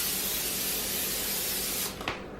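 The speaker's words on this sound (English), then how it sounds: "spray a cookie pan" Cooking spray hissing from an aerosol can onto a cookie pan, a continuous close spray lasting about two seconds that cuts off abruptly, followed by a brief faint rattle.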